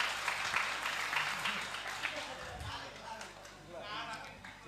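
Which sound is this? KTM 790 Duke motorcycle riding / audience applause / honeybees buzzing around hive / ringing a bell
audience applause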